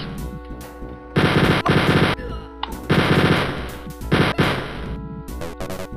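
Wolfenstein 3D gunfire in a game-mod playthrough: loud bursts of rapid automatic shots in several volleys, with sharp single cracks between them.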